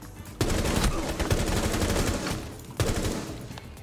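Rapid automatic gunfire in Rainbow Six Siege Blood Orchid: two loud, sustained bursts of close shots, the second starting after a brief pause, with little speech.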